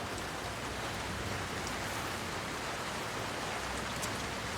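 Steady, dense rainfall pours down in an even, loud hiss that continues without a break, with no voices over it.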